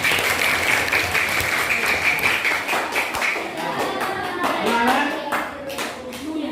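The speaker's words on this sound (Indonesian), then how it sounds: "Tepuk tangan untuk Bukhari ini." Schoolchildren clap for a classmate named Bukhari in an elementary school classroom, a dense burst of many small hands that fills the room and thins toward the end, with a few voices mixed in.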